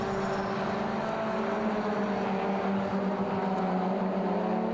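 Racing cars lapping Taupo circuit with a BMW climbing through the field, a steady dense engine roar with sustained droning tones, held at constant loudness throughout.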